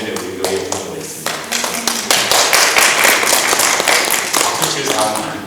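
A church congregation breaks into applause, with scattered claps at first that build into a dense, lively burst of clapping from many hands, and a voice speaks over it.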